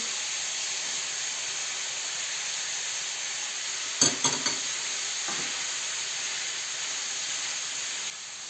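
Meat and onion frying in a pot for plov, a constant loud hissing sizzle with a few brief stirring scrapes in the middle.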